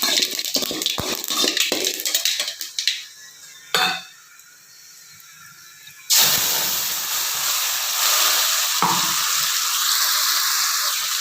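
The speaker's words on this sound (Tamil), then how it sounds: "இப்போ நல்லெண்ணெய் ஊற்றி கடுகு உளுந்து போட்டு தாளிக்கலாம்" Mustard seeds and urad dal are tempered in hot sesame oil for a garlic chutney. Utensil clatter and small sputters come first, then a loud, steady, close sizzle bursts in and continues to the end.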